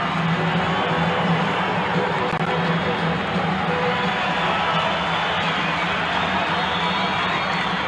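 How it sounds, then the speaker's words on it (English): A packed arena crowd roars at a 1982 Bucks versus Spurs NBA game that went to triple overtime, a steady, loud wall of cheering and noise with a low hum underneath. "Listen to this crowd."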